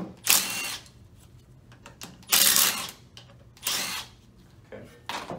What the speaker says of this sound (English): Let's go ahead and remove our park neutral switch.